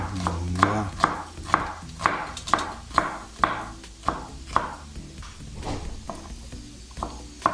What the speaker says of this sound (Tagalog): Pagkatapos pong hiwain ng sibuyas